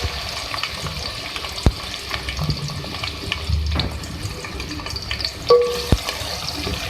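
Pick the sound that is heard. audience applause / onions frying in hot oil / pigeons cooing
onions frying in hot oil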